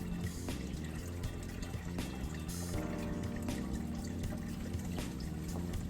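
Water gurgles and trickles steadily as it drains out of a fill-and-drain aquaponics grow bed, with continuous close pouring and dripping and no voices.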